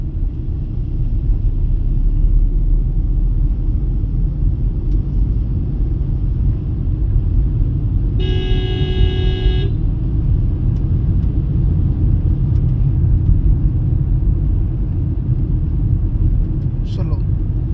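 A Tata Punch car rolls along a road with a steady low engine rumble and road noise, close and continuous, with a brief tonal beep in the middle.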